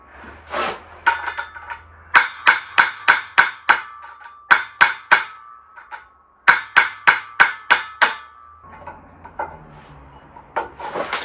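Metal hammer blows ring out during a transmission and driveshaft install on a 1961 Comet: sharp, loud strikes in quick bursts of four to six, with short pauses between the runs.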